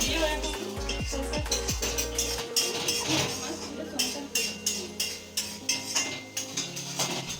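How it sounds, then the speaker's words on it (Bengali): Two metal spatulas scrape and clatter rhythmically from both sides in a small wok of spices, repeated quick metallic strokes under ongoing talk and a low hum. "এই একটা ছোট কড়াইয়ের মধ্যে মশলা দিয়ে দুজনে দুটো খুন্তি নিয়ে দুদিক থেকে এইভাবে কারা রান্না করে"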